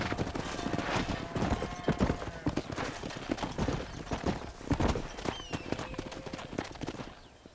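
Horse hooves clip-clopping steadily in the Red Dead Redemption video game, a quick rhythmic trot heard up close over a layer of ambient game sound.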